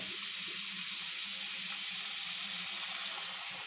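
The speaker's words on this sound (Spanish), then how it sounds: "tenemos que poner suficiente cantidad de agua que tape todo el pescado" Water pours steadily from a tap over salt cod set to soak in a kitchen, a continuous close hiss of running liquid with no talk.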